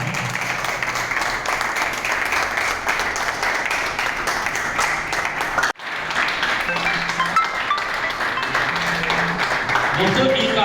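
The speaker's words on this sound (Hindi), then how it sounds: "जोरदार तालियां" Audience applause at a drug de-addiction class and event: steady, dense clapping that runs throughout, breaking off for a split second midway before resuming just as full.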